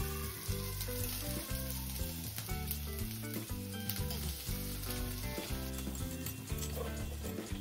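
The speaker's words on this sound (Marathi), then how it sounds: "बाकी रश्श्यासाठी लागणारा मसालाही भाजून घेऊया।" Spice masala dry-roasting in a pan for a spicy Maharashtrian masvadi rassa curry, a soft continuous sizzle under steady background music.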